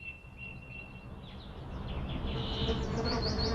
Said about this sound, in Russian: Мухи – это очень сложные организмы.